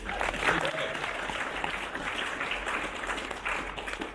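Audience applause at a LEGO keynote presentation, a steady wash of clapping from a seated crowd that holds at an even moderate level for about four seconds, with a few voices faintly mixed in.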